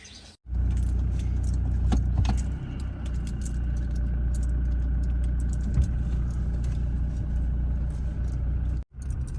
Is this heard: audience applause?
no